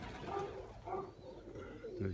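A pigeon coos in hot summer heat near a dovecote, soft repeated throaty calls over steady outdoor background noise. Faint, with no clear talk over it.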